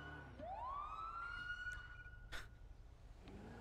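A police car siren in the NoPixel video game switches on, one tone sweeping upward and then holding a steady wail, followed by a short burst of noise, over a low background hum.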